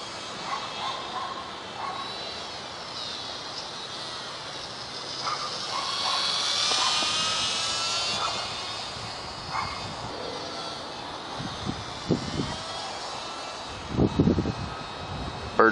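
A WLToys Cessna-182 F949 three-channel RC plane flies slowly over a front yard, a thin whining electric motor that rises and falls with distance, with a dog yipping faintly and brief voices.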